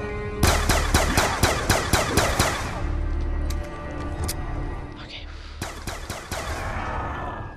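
Gunfire in the Black Ops 2 zombies map Buried with a Pack-a-Punched weapon: a loud, rapid string of close shots, a lull filled with game noise, then another quick burst of shots.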